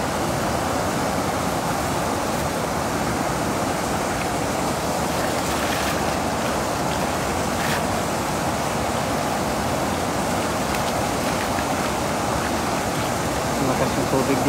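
Strong river current surging around a small fishing boat during cast net fishing, a dense continuous rush of water and wind buffeting close to the microphone with no clear speech.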